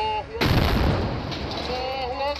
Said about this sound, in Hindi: दूसरी बिल्डिंग में छिपे हमास के लड़ाकों ने इन्हें निशाना बनाया, रॉकेट फायर करके इजरायली सेना को नुकसान पहुंचाया